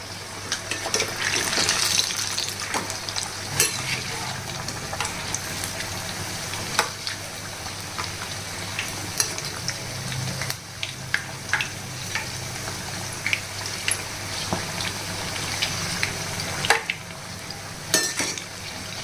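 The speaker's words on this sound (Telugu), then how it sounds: "ఆయిల్ వేడైందండి. ఇప్పుడు మనం బజ్జీలు వేసేసుకుందాము." Mirchi bajji frying in hot oil, a steady bubbling sizzle with scattered sharp crackles and occasional clinks of a utensil against the pan, fairly close.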